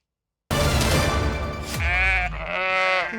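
A lamb on a farm bleats loudly and close up, two wavering, drawn-out cries in quick succession after a brief silence.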